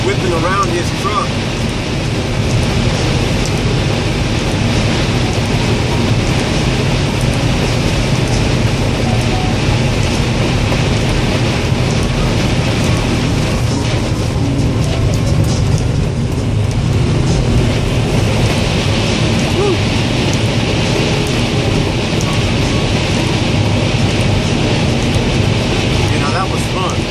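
A wind and rain storm on a Utah highway, a dense continuous roar of gusting wind and rain mixed with passing traffic and road noise, loud and unbroken throughout.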